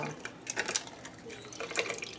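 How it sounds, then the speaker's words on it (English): Homemade sweet iced tea poured over ice, a broken liquid splashing and trickling with brief bright clinks, moderately close and fairly quiet, with no talk. "we're going to pour it over some ice"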